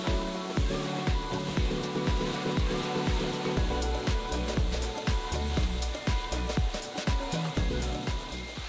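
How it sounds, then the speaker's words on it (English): Air blower dusting a wool rug, a loud continuous rushing roar with rapid patting, crackling debris hits throughout, alone and close. "Now let's try it with the air blower."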